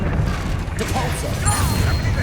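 Depulso spell impact in Hogwarts Legacy inside a goblin mine, a crashing burst of smashing debris over continuous combat noise, with a voice briefly speaking.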